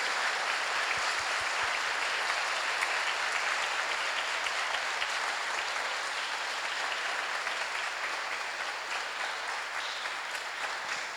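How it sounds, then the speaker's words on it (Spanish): Sustained applause from an audience at a World Dance Day talk, steady and fairly loud throughout, with dense clapping that never lets up. "pido un fuerte aplauso para ustedes tres"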